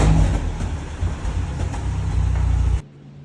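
A Land Rover Series truck arriving with an engine aboard, its mid-pitched engine running loud and close with some revving before cutting off abruptly near the end.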